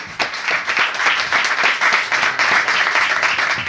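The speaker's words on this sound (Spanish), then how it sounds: "Yo creo que se merecen un buen aplauso" An audience claps for the speakers at a public-sector and third-sector panel event, producing loud, dense, sustained applause that fills the room evenly from start to finish without any voices.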